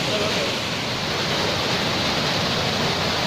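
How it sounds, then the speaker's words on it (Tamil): A waterfall along a mountain trek on Pothigai Malai (Agasthiyar hills) roars as a dense, steady rush of falling water, loud and close, filling the whole stretch without a break. "இங்கே பாருங்கள், அருவி எப்படி இருக்குது பாருங்கள்"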